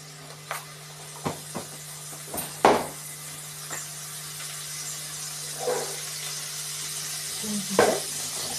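Mustard seeds and urad dal sizzling in hot oil in a pan, a steady soft hiss broken by scattered sharp pops and crackles, fairly quiet with a low constant hum underneath.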